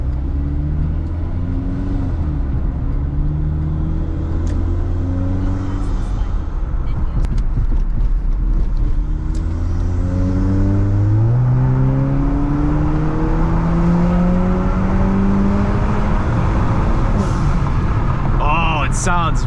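An Acura RDX turbo engine with a high-flow cat and resonator rumbles and revs steadily with rising harmonic sweeps as it accelerates, loud and close, with a voice talking briefly over it.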